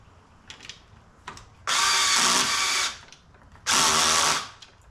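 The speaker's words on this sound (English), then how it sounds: "Hold this while I drill it." A power drill whirs loudly in two bursts of about a second each, with small clicks and handling noise between them, while assembling an Adirondack chair.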